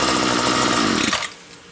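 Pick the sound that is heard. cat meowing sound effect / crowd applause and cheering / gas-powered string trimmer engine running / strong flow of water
gas-powered string trimmer engine running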